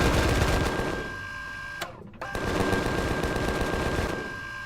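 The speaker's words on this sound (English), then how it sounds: "we'll get the minigun out here" Minigun fire in the video game Empyrion: a dense, continuous mechanical rattle that runs loud and steady, drops out for a moment midway, then resumes and keeps hammering to the end.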